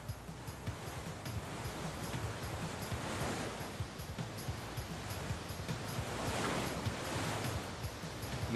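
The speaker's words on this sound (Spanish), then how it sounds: "Mientras el agua ruge alrededor de los enormes cantos y se dirige hacia el río, forma remolinos traicioneros." Jungle river water roars around huge boulders toward the river, a dense, steady rushing wash with no break, heard up close.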